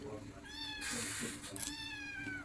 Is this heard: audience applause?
no